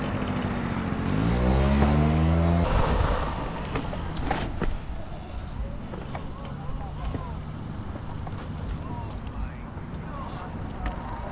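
A Stark electric motorcycle on a ride, its rising, stepped electric motor whine loud up close for the first few seconds, then fading under steady wind rush and road rumble.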